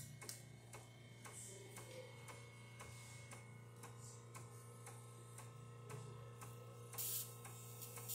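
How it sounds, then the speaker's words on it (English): A low, steady pump hum from a Breville Barista Express espresso machine runs throughout, with regular rapid ticking over it and a brief louder burst near the end. "it's going to start ramping up. You're going to hear the pump."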